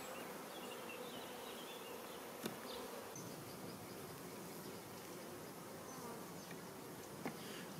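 Honey bees hum steadily around a hive frame during queen grafting work, a dense continuous buzz close by with a couple of brief clicks and no talking.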